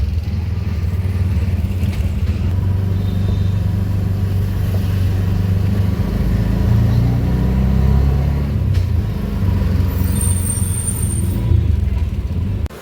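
The motor of an auto-rickshaw drones steadily from up close through the ride, a constant low rumble with slight surges and brief rattles, and no voices over it.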